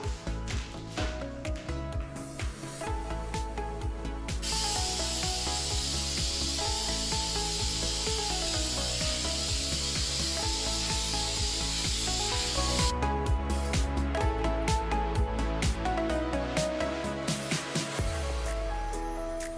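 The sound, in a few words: spray painting bumper inserts, first coat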